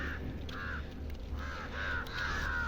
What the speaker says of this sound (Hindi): गाइज इतने सारे कौवे पता नहीं क्यों है इधर